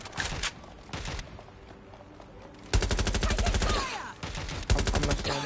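Rapid automatic gunfire in the Watch Dogs Legion video game, loud close bursts of repeated shots with brief pauses between, a long sustained volley in the middle, plus faint clatter in the background.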